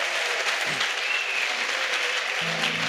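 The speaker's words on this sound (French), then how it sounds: "Clap for Jesus Christ." A large church congregation at a salvation and healing crusade in Bafoussam claps in sustained, dense applause that fills the space evenly from start to finish.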